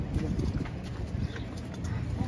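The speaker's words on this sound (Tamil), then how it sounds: "குதிரை வண்டி இங்கிருந்து தான் ஸ்டார்ட் ஆகுது போல இருக்கு." A horse-drawn carriage's hooves clip-clop steadily on the street of Lunenburg's old town, with continuous busy outdoor ambience and faint background voices.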